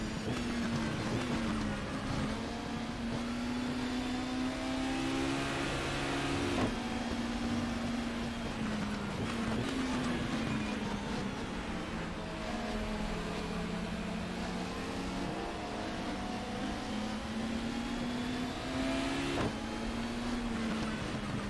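A race car engine in GTR 2 at 1994 BTCC Brands Hatch Indy, droning steadily at partial throttle with pitch rising and falling through gear changes and corners, continuous and moderately loud.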